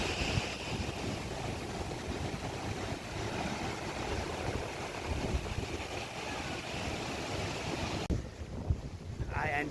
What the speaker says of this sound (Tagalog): Lalaki ng alon, grabe, nakakatakot na alon.